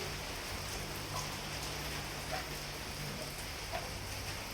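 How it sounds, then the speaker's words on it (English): Steady rain falls in a village, a constant soft hiss of drops on surfaces with a few faint individual splats, no voices, at even low-to-moderate loudness throughout. "it's still raining, so I can't do the installation"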